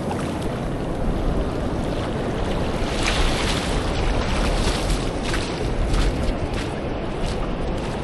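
Ocean surf washing up a beach, a steady loud wash of breaking and receding water with wind, continuous and close, no voices.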